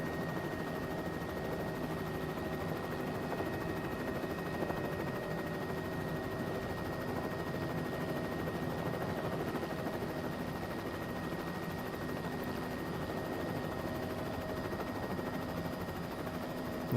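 A helicopter in flight, heard from inside as a constant loud droning rotor and engine roar with a steady whine, unbroken throughout.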